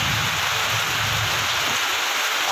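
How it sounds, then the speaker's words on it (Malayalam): Heavy rain falling outdoors in Kerala, a steady dense hiss with a low rumble underneath, continuous and fairly loud throughout with no voices. "എന്താ ഭയങ്കര മഴയാണ്ട"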